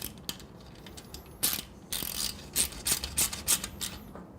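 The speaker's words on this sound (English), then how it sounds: "tighten up the heat shield clamp." Allen key ratchets against a heat shield clamp on a Triumph Bonneville motorcycle exhaust, a series of close, crisp clicking and grinding turns in short bursts, with faint pauses between.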